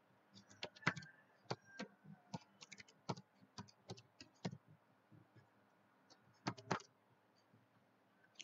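Someone types a password on a computer keyboard in a quiet room, giving short bursts of crisp key clicks with brief pauses between them.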